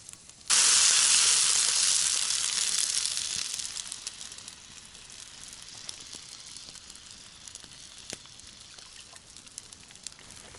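Potatoes frying over an open fire let out a sudden loud sizzling hiss that holds for a few seconds, then eases into a quieter, steady crackle with occasional small pops.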